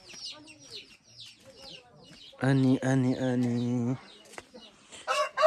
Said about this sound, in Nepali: यहाँ चाहिँ कुखुराको खोर छ